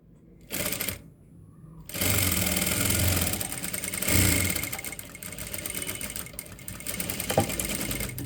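A sewing machine stitches two layered pieces of fabric in bursts, a fast close rattling whir that starts, pauses briefly, then runs on steadily with slight speed changes.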